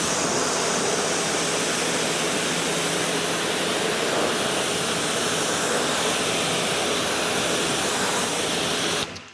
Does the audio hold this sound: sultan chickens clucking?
no